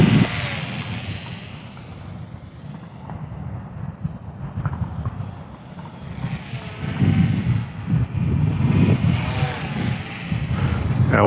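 An XK WLToys F8F Bearcat micro RC plane flies under heavy throttle with a steady buzzing whine and a rushing wind roar against the microphone that swells louder toward the end.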